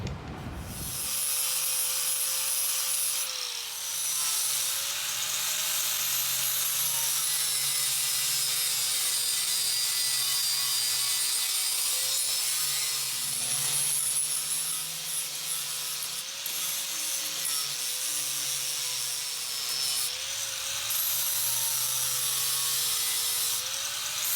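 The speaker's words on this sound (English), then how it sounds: "I'm gonna grind these welds, and that's a job for the flap wheel" Flap wheel on an angle grinder smoothing welds on a metal hose reel, a loud continuous abrasive whine with a steady pitch that dips briefly under load, running unbroken throughout.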